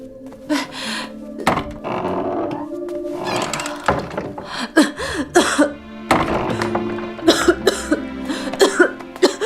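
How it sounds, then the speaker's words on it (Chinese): Repeated harsh coughing fits, close and loud, breaking into bursts with short pauses, mixed with a few dull knocks and background music. "咳得这么厉害"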